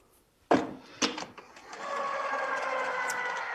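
Die cutting machine feeding cardstock through its rollers. A few sharp clunks start it off, then a steady mechanical whir and grind follows, close by and moderately loud, with no voices over it.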